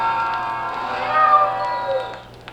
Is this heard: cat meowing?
yes